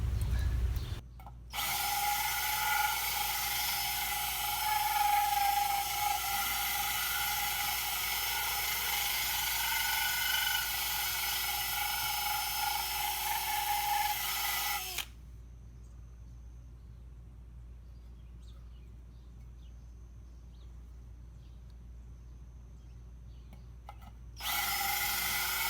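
Power drill boring into a penjing bonsai during transplanting, a loud steady whine running about fourteen seconds, then a pause and a brief restart near the end.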